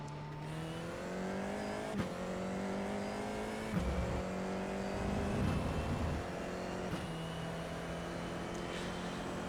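A Formula 4 race car engine at Phillip Island circuit drones steadily with rising and falling pitch as gears change, heard from on board, with a few bumps and wind noise.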